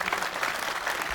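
Brief burst of audience applause at a political interview event with Alex Salmond, a steady dense wash of many hands clapping, fairly loud, with no voices over it.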